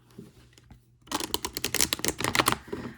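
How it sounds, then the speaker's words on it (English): A deck of tarot cards shuffled up close, a quiet start giving way to a rapid burst of crisp riffling flutters and snaps lasting about two seconds. "One more shuffle here."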